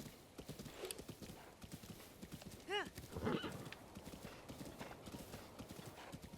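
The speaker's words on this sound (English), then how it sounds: "Are you one of the faster horses?" Horse in the video game Breath of the Wild, its hooves clip-clopping steadily throughout with one clear neigh and a snort partway through, over game background sounds.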